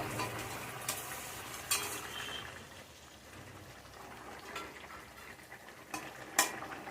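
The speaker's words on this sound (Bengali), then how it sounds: "এবার আমি মাছগুলো দিয়ে দেবো" Hilsa fish pieces go into a pan with lightly fried papaya for a thin black-cumin curry, giving a steady low frying hiss with a few sharp utensil clinks.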